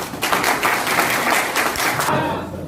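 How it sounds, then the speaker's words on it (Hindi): An audience claps together in a hall during a Direct Selling Industry (RCM Business) talk, a dense, loud, steady patter that carries on for a couple of seconds and then thins out quickly near the end. "एक बार तालियां बजा सकते हैं"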